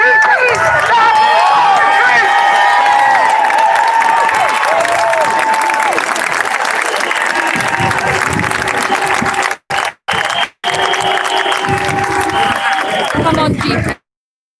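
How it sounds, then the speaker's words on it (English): A protest crowd in Trafalgar Square claps and cheers for GPs, a loud continuous roar of clapping and shouting with a few brief dropouts, then sudden silence near the end. "Let's give a round of applause for the GPs"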